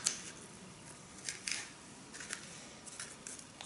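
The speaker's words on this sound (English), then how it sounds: "Take your scissors." Scissors cutting a miniature painting dampening pad, a few faint close snips and crisp scrapes in short bursts against a quiet background, no talk.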